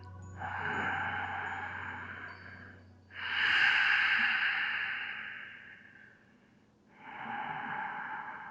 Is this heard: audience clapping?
no